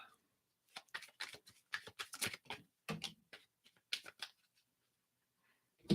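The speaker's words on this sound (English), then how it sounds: "Let me just shuffle this a couple times." Close, crisp clicks and flutters of cards being shuffled in several quick bursts, followed by near silence.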